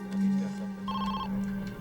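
A telephone rings with a short electronic trill, heard once at moderate loudness over a steady low hum, in a crime documentary setting.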